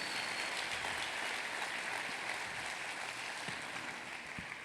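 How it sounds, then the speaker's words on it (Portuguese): A church congregation at a Sunday service gives the Lord a strong round of applause, a steady wash of many hands clapping that runs evenly throughout at moderate distance, without speech. "Dê uma salva de palmas a Ele bem forte"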